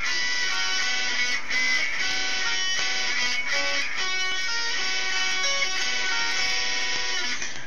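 Guitar playing the scale lick from the verse of a song, a quick run of single notes between chords with a steady, bright tone and no talking.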